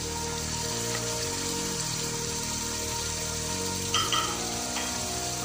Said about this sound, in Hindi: अच्छे से इसको भूनेंगे।